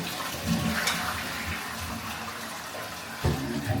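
A steady rush of water from a toilet flush runs throughout, with a couple of soft knocks near the start and end.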